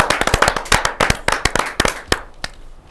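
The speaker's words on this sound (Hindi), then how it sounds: "आप सबकी जोरदार तालियों के साथ" An audience at an Indian poetry recital (kavi sammelan) breaks into brisk, close clapping, dense at first and then thinning to a few scattered claps.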